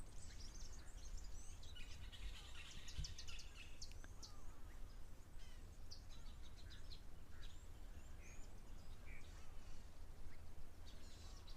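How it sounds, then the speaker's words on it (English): Birds call at a waterhole in the wild, including a blacksmith lapwing, with many faint, scattered chirps and tweets layered over soft insect buzz and low background rumble, all fairly distant and quiet with no talking. "The bird sounds are very calming as well."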